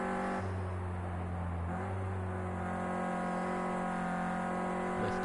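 Renault Clio Cup race car on a qualifying lap heard onboard, the engine droning steadily with a tonal hum that shifts pitch briefly, close and continuous.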